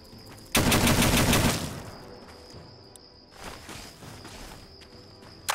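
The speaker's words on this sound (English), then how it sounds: "what's shooting at me?" A dense burst of gunfire in a Fallout video game, loud and close for about a second, then a second, fainter volley, with a steady high electronic tone underneath.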